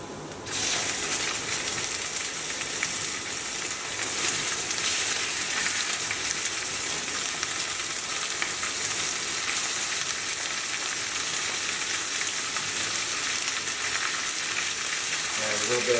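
Lemon chicken with garlic frying in a pan, a steady loud sizzle that continues without a break while being stirred, with a faint clatter near the end and no voices.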